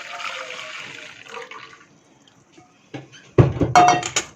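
Water splashes and pours into a cooking pot in brief bursts near the end, after a stretch of softer hissing and a quiet gap.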